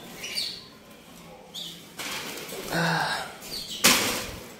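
Caged songbirds, orioles among them, flap their wings in short bursts at a bird seller's stall, with knocks and scrapes of cages being handled and an occasional chirp nearby.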